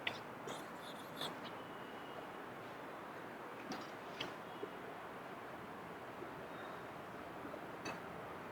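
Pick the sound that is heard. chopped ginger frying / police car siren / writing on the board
writing on the board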